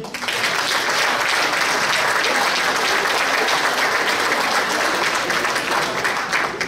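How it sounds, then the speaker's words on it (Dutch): Audience applause at the Miss & Mrs Glamour 2020 pageant, a dense, steady wash of clapping from a large crowd that continues loudly and evenly throughout with no talking over it. "Geef ze een daverend applaus"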